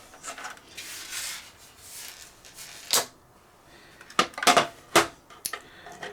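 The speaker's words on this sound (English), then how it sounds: "Let's get those screws on there." Screws are fitted into a plastic UVC sanitizer box with close, dry scraping and rubbing. Several sharp little clicks and ticks follow near the end.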